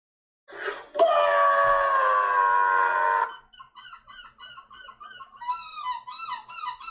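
Loud, drawn-out harmonic wail lasting about two seconds, followed by a run of shorter, choppy seagull-like squawking calls, close and clear with no talking.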